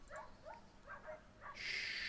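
In Skyrim, puppies let out four or five short, high whimpers in a loose rhythm, then a sudden bright hiss takes over at the end.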